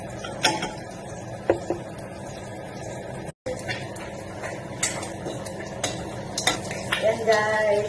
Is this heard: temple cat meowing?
no